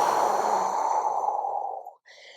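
A long, close, airy exhale that tapers off during a breathing exercise, followed by the start of a soft inhale in a quiet room.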